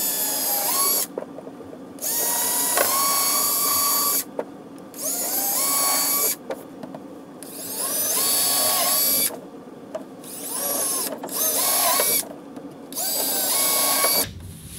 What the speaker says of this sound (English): We're now going to drill into the wall 55 millimeters,